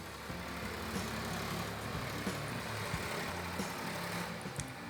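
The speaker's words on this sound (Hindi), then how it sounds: "तो ट्रैक्टर आराम से अपना कोड़ाई कर ले रही है।" A tractor tills soft, freshly watered soil in a small vegetable patch, its engine droning steadily at mid distance under a dense, noisy wash with occasional knocks.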